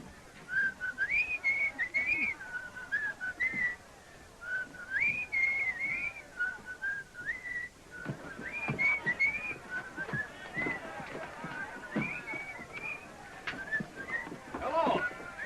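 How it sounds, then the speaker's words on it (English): A person whistles the melody of Coming Through the Rye, a clear wavering tune carried over a steady stretch, with scattered knocks and clatter of movement growing busier toward the end. "Can you whistle Coming Through the Rye?"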